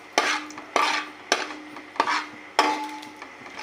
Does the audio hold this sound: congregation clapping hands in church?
no